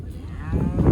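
Cattle moo repeatedly as the herd gathers to be walked home. The lowing is close and builds louder toward the end, with several animals calling over one another.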